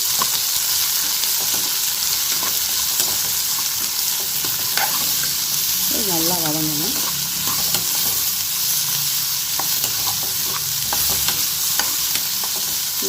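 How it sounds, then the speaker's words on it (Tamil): Steady frying sizzle with occasional stirring scrapes as chopped onions sauté in a hot pan with ginger for paneer butter masala, continuous and close throughout. "இப்போ வெங்காயத்தையும் சேர்த்து நல்லா வதக்கிக்கிறேன்"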